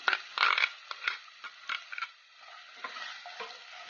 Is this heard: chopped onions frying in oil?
yes